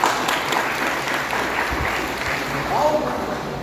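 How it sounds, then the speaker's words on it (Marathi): A crowd claps steadily and loudly throughout at a political party event, a dense continuous wash of applause. "सर्वांनी एकदा परत एकदा जोरदार टाळ्या वाजवायचा"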